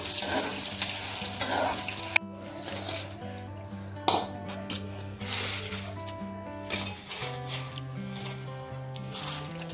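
Ingredients for coriander chutney fry in a pan, a soft hissing sizzle strongest in the first couple of seconds, with a few clinks of utensils, all under steady instrumental background music.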